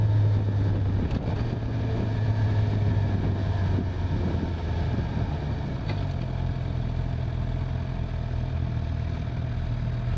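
Engine of a 2015 Suzuki GSX-R750 sport bike while riding, a steady droning hum with wind rush, continuous and fairly loud throughout, with no talking.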